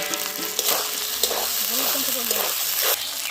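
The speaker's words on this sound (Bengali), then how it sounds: "আলুগুলো দিয়ে দিচ্ছি মশলার মধ্যে, একটু নেড়ে নেব" Potatoes stirred into spice paste and onion paste sizzling in a pot for a duck curry: continuous bright frying hiss with scraping stir strokes, while a voice speaks faintly underneath.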